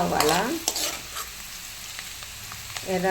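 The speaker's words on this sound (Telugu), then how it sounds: "ఇప్పుడు ఎర్రగడ్డ వేద్దాం. కొంచెం ఎర్రగా" Onions frying in hot oil with mustard seeds and cumin, stirred in a pan: a steady close sizzle with scraping strokes, and a voice briefly at the start and end.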